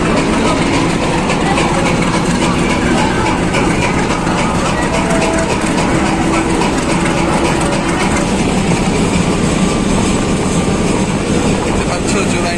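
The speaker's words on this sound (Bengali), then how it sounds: "গ্যান্ডেরিয়া স্টেশন থেকে এখন ট্রেনটি ছেড়ে দিয়েছে" A Narayanganj commuter train pulls out of Gandaria railway station with a loud, continuous engine rumble, while voices talk faintly over it.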